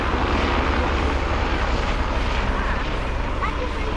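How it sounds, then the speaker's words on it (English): A rescue helicopter flies over near Carpinteria Beach, its steady loud rotor and engine roar filling the whole stretch without a break, with people talking over it. "Oh, look at that helicopter."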